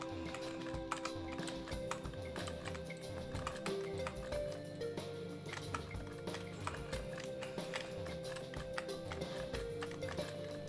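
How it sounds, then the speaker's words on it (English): Loud computer keyboard clicking during an old-school game, a dense stream of rapid key taps running steadily over continuous game sound, with no talking. "Sorry for the clicking. I know the keyboard's loud."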